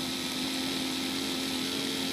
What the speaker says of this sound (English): So, drilling, pushing down.